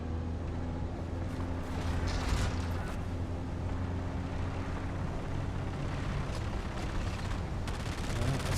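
NPCs trade gunfire in the video game Dune: Awakening, heard as dense, crackling bursts of shots over a constant low rumble, moderately loud and steady throughout, with no voices.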